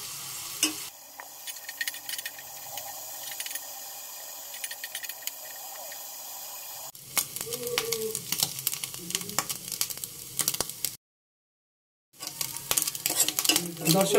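Two cloves of garlic fry in a pan until red and crisp, giving a steady close sizzle with stirring scrapes and light clinks against the pan; the sound grows busier midway, cuts out briefly, then resumes.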